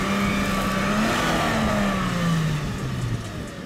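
A Toyota Land Cruiser SUV engine revs steadily and strains as its unloaded front wheel slips on a slope, a loud continuous drone with shifting pitch and no talk.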